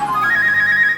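A telephone ringtone plays as a rising electronic melody followed by a rapid repeating warble, loud and close with no talk.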